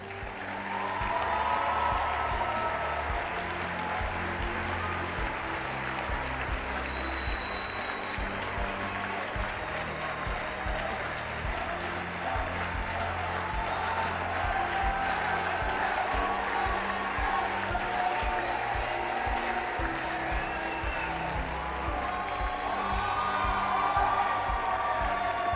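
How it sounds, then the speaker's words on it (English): A large audience at the Jack Shewmaker Leadership Award ceremony gives long, sustained applause with scattered cheers and whoops, the clapping steady and loud throughout. "Now they're on stage, give them a big round of applause."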